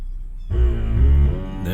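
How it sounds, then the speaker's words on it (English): An ABS pump on a 2012 Ford Edge runs during a brake bleed. After a half-second of quiet it starts a loud, steady buzzing motor hum, close by, that drones to the end with slight shifts in pitch. "And it's going to go through that ABS noise again."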